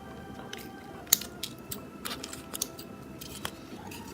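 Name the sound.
scissors trimming excess material on a craft doll crib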